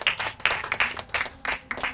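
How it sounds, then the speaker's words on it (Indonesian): A small group at a stand-up comedy show claps in quick, uneven bursts, close and lively, lasting a couple of seconds. "tepuk tangan dulu guys kita semua"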